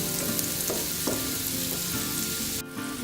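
Bitter gourd slices fry on a low flame, a steady close sizzle with a few soft stirring clinks, with no voices, dropping off briefly near the end.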